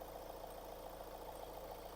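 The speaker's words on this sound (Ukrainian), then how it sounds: "Як бачимо, двигун працює рівненько." A 2016 Nissan Qashqai 1.6 diesel engine idles steadily with an even, low hum, close and continuous, no voices.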